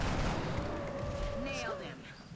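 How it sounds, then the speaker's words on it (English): A single gunshot volley in the turn-based strategy game XCOM Long War cracks out briefly and then decays under a low ambient game hum. "Let us take this shot first."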